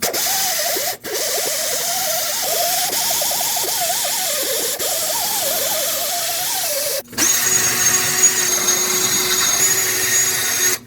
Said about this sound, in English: take a wire wheel on a drill, a wire brush by hand, or even a sanding disc if necessary